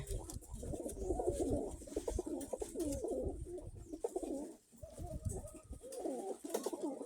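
Kremaky (Krymaky) male pigeons coo in a steady, overlapping stream of low rolling calls, close and fairly loud throughout, with no talk.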